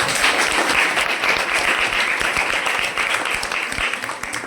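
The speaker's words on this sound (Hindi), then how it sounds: "मैं चाहता हूं कि अपने नन्हे मुन्ने बच्चों के लिए जोरदार ताली हो जाए" Loud, sustained applause from a crowd at an International Women's Day function, thick continuous clapping filling the room with a few individual claps standing out near the end.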